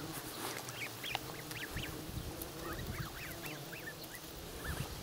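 Geese and goslings honking outdoors in a village yard, with repeated short nasal honks and higher peeping calls scattered across the scene, fairly faint over a low background rumble.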